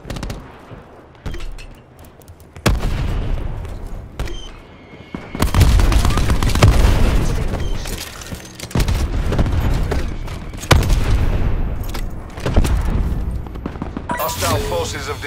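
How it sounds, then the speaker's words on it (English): Video game combat with rapid bursts of gunfire and heavy explosions, loud and close, coming in waves with brief quieter gaps between them. "Our robot is under fire."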